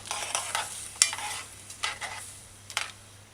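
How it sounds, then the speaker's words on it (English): Coconut milk is stirred into a sweet potato rundung in a pot. A few distinct spoon strokes scrape and swish through the liquid at a slow, uneven rhythm, with a faint steady hum underneath. "Just kind of stir it in a little."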